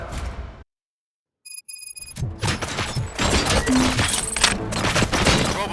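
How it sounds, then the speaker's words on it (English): Gunfire in the Robocop: Rogue City video game: after a sudden drop to silence and a few thin electronic tones, loud, dense bursts of shots and crashing impacts fill the rest of the scene. "Gunshots? What's going on?"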